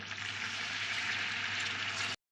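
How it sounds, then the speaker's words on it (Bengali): Steady, loud sizzling and bubbling as hot water goes into a pan of browned country chicken curry, a continuous frying hiss that cuts off abruptly at the end. "চিকেনটা কষানো একদম কমপ্লিট এখন আমি এর মধ্যে দিয়ে দিচ্ছি গরম জল"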